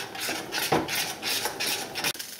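Polenta being stirred in a pot with added salt and butter, a steady scraping, swishing rhythm with a few louder clinks of utensil against the pot, close up, no voices.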